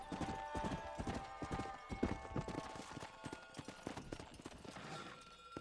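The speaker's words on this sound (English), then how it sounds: "Sturdy horse still." Horse hooves clip-clop in a steady, rapid rhythm in the video game Red Dead Redemption, a continuous run of distinct hoofbeats over faint background ambience with no one talking.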